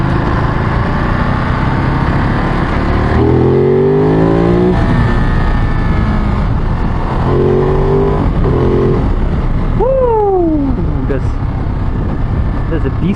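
A Ducati Monster motorcycle accelerates hard from low speed, its engine note climbing through rising pulls, loud and close, with rumbling wind and road noise throughout.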